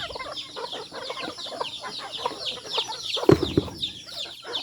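A flock of farm chickens clucks and murmurs steadily at close range while being fed, with one louder burst of squawking partway through.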